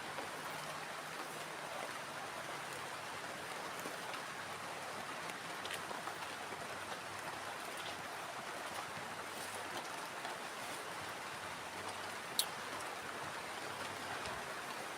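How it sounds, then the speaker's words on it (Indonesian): Heavy rain falls steadily at a campsite, a dense continuous hiss with scattered sharper drops and no voices. "Dan ini hujannya semakin lebat banget ya."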